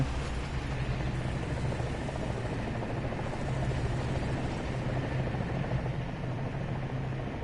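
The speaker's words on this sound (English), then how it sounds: "I hear a helicopter." Helicopter in the War Thunder video game, a steady low rotor thrum and engine drone holding evenly throughout, fairly faint and continuous with no voices over it.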